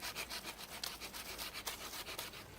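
A knife cuts and trims a wooden stick outdoors while wild camping, giving a rapid run of rough rasping strokes, close and fairly loud, repeated in a quick uneven rhythm.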